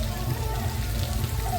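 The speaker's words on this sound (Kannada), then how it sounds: "ಮಳೆ ಕಣೆ," Steady rain falls outdoors, a continuous, even wash of drops that holds at the same level with no breaks.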